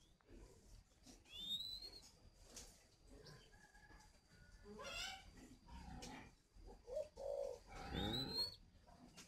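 Pink doves calling at a bird breeder's in northern Vietnam, soft repeated coos with a few sharper chirps, fairly close and scattered through the stretch with quiet gaps between.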